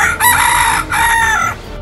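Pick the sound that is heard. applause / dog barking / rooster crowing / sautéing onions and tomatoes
rooster crowing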